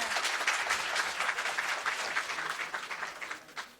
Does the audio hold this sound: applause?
yes